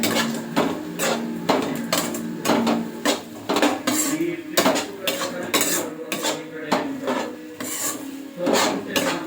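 Chana dal is stirred in a pan, with a spoon scraping and rasping across the metal in quick repeated strokes and rattling against the rim, loud and close, steady rhythm with no talk.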